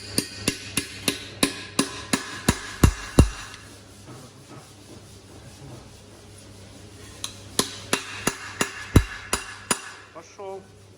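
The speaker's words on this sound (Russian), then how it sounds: "Ну, давай сбивать тогда подшипник. Молоток нам в помощь." A hammer knocks a bearing out of a Vito 447 outboard motor during a repair, striking in rapid bursts of sharp metallic blows, close and loud, with a pause and brief voices between the two runs of strikes.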